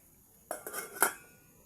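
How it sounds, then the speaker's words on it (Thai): Dishes, pots and cutlery clatter during dishwashing in a home kitchen, giving a short burst of a few close clinks and knocks against quiet background. "ก็ต้องล้างจาน ทำเองล้างเอง"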